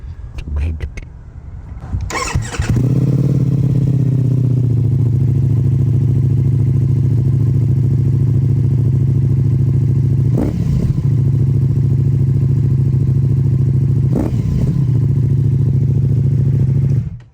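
A Ducati Multistrada V4 with a full race Akrapovic exhaust and its dB killers removed fires up and settles into a loud, close, rumbling idle, with two sharp revs partway through. A person talks briefly before it starts.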